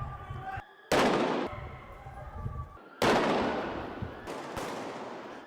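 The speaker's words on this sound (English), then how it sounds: "Shooting anyone in his path as he makes his way through the building." Gunshots from an active shooter moving through a building: sharp, loud blasts strike with ringing echoes that decay slowly, around two main reports spaced a couple of seconds apart, with smaller cracks between them.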